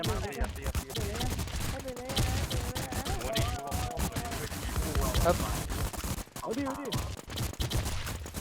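Rapid bursts of gunfire in a shooting video game crackle densely throughout, close and loud, with excited voices talking over the shots.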